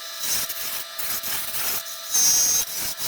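Wooden pen blank spinning on a lathe mandrel while a tool cuts it, giving a steady rough scraping and rubbing texture across the clip, with a brief high whine near the end.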